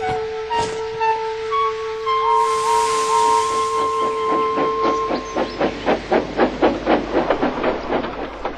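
A steam locomotive blasts steam and air through its funnel: a whistle tone and sudden loud hiss give way to a run of rapid rhythmic chuffs building close by.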